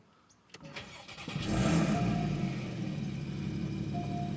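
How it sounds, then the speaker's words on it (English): A 2014 Porsche Cayman S starts up with a sharp bark, then revs loudly before settling into a steady, rumbling exhaust note, heard close and alone. "they have a great sounding exhaust"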